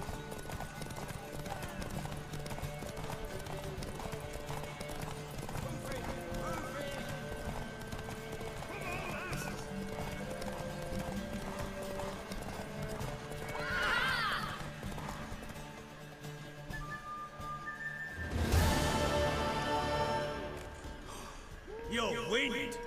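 In The Witcher 3 game, a horse's hooves clip-clop in a steady rhythm beneath game music and dialogue, with a loud whinnying neigh late in the sequence.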